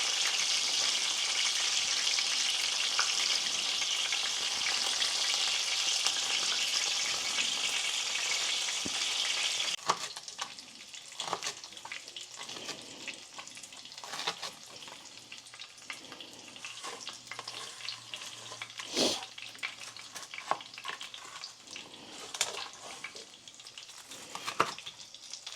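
Butter being stirred into food in a hot frying pan: a loud continuous sizzle for the first ten seconds, then a quieter crackle broken by scattered scrapes and clacks of a utensil against the pan.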